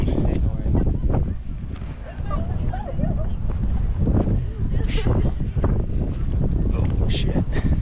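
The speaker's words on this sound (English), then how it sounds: "I'd be walking on a jetty today in the wind" Wind gusting across a seaside jetty by Plymouth Rock, a constant loud roar and rumble buffeting the microphone throughout, with a person talking over it.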